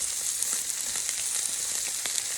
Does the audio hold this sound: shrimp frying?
yes